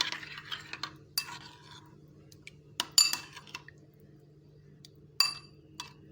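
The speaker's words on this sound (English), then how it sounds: "After adding all the ingredients, now I will mix them well." A utensil clinks and scrapes against a bowl while chicken marinade with yogurt is mixed, giving scattered knocks and stirring sounds over a steady low hum, close and fairly quiet.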